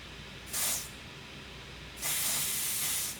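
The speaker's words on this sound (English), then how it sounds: "Spray it on the back of my hand." An aerosol can of spray foundation sprays twice onto the back of a hand with a hissing burst: a brief short puff, then a longer steady spray, close by and fairly loud.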